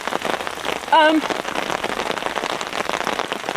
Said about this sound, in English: you get that massive rain dump on the tarp